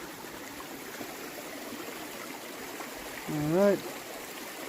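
Steady trickling creek water flows in the background on a hike to St. Mary's Falls, gentle and continuous, while someone speaks briefly near the end.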